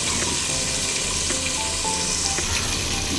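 Onions fry in a pan with mint and coriander for a chicken biryani, giving a steady, dense sizzle close up with a few faint clinks, no talking.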